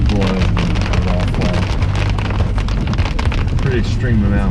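Heavy rainwater pours off overhanging trees onto a truck tent, a dense, continuous roar of drumming water and splashing drops, loud and close throughout with a low rumble beneath.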